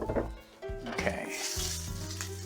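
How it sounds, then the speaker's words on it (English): Garlic sizzles steadily in olive oil in a pan, a close, continuous frying hiss with a few stirring scrapes and no talk over it. "Now in the pan, I'll put my garlic."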